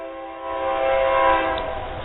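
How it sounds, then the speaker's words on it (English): A train horn carries from about three miles away across a valley, one long steady blare that swells in the middle and holds to the end over a low rumble, with no talking. "Fucking train."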